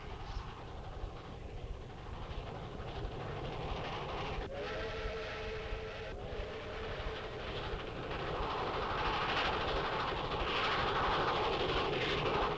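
A train rumbles past in rural Holtville, Alabama, a continuous heavy rolling roar with a sustained whistle blast sounding partway through and the noise swelling toward the end.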